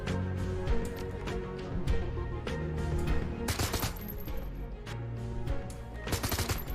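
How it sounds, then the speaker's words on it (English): Rapid bursts of gunfire in the video game Shadowrun Hong Kong, loud repeated shots with a couple of dense automatic volleys and short gaps, set over a steady game music bed; no talking. "We can start to gun them down, I guess."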